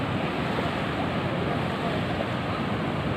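Steady broadband wash of ocean waves at a beach in Krui on the west coast under overcast weather, continuous and fairly loud, mixed with wind buffeting the microphone and no talking.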